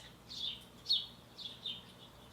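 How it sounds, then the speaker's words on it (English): Small birds chirp faintly outside an open window, giving about four short, thin tweets spaced across a quiet room background. "so if you hear the birds, I'm sorry if that bothers some people"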